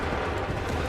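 Musket volley from the video game Assassin's Creed 3, a dense, loud burst of massed gunfire filling the whole brief moment with rumbling crackle.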